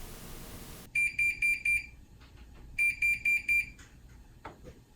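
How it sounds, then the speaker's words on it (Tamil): A kitchen timer alarm sounds while a banana cake bakes, two loud bursts of four quick electronic beeps each, close and alone, followed by faint kitchen clatter. "இப்போ வந்து எனக்கு டைமரும் முடிஞ்சிருச்சு."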